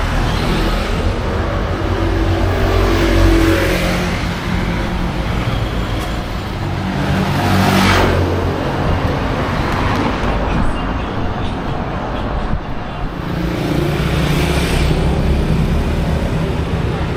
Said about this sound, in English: A car is going out.